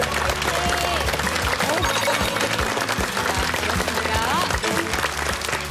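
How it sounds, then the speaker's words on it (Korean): Studio audience applause on a Korean health variety show, a steady dense clapping under loud background music that runs the whole time. "우리 박수 한번 쳐주실까요?"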